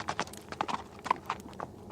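A departing rider's horse clip-clops in a quick, irregular run of sharp hoof knocks that sound close and fairly clear for about two seconds.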